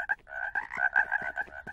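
A frog croaks in a quick, rapid series of raspy pulses, fairly faint and alone, lasting under two seconds.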